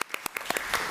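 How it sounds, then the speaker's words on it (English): An audience at a committee of the whole meeting claps to welcome a new coordinator of safety and security, a brief burst of scattered, uneven hand claps at moderate distance. "if you would please give him a round of applause in his new position"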